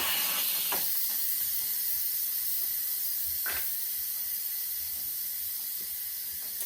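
Steady broadband hiss of steam venting from the manual release of a Pampered Chef Quick Cooker pressure cooker, continuous and moderately loud, with a few faint clicks and no talking.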